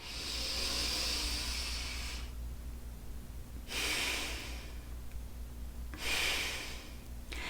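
Slow, rhythmic breaths are drawn through a face mask in three long, airy hissing cycles, each a few seconds long with quieter pauses between, close and alone.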